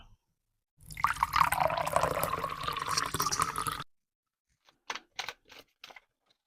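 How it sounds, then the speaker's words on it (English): Diet Coke topped over ice in a tequila Kalimotxo-style cocktail: a steady close fizzing pour lasting about three seconds, followed by a few short clinks and rattles of ice in the glass. "I'm gonna add a little bit more ice to this, and I'm gonna top it off with a couple ounces of our Diet Coke."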